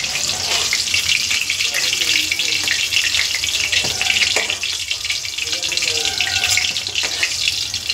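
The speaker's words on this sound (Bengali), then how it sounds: "তো এবার আমি এক এক করে সবগুলো পকোড়া ভেজে নেব" Chicken pakoras deep-frying in hot oil, a steady close crackling sizzle that holds throughout with no talk.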